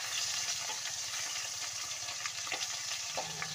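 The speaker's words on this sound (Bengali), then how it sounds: "মাছগুলোকে এক এক করে দিয়ে লাল লাল করে কিন্তু ভেজে নেব" Pieces of snakehead fish fry in hot oil in a wok. The crackling sizzle is moderate and steady, with a few sharper pops and light utensil sounds and no voices.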